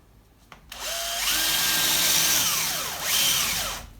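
A power drill with hammer action switched off, boring into plaster on a brick wall: a sharp start, then a loud steady whine that dips and recovers as the bit bites, ending abruptly.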